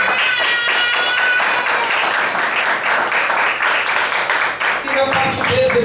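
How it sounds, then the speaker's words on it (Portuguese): A church congregation claps hands loudly and continuously, a dense rhythmic wash of many palms with voices mixed into the sound. "Vamos aplaudir o Senhor?"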